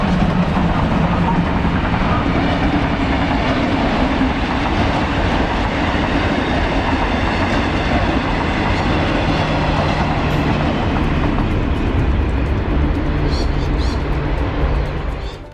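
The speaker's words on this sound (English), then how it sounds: "thank you for joining me on this steam-hauled journey to Castlemaine" A steam-hauled vintage heritage train runs on rails near Castlemaine in Victoria, Australia, with a loud, continuous rumbling roar and rail noise sustained for the whole stretch, fading slightly at the very end.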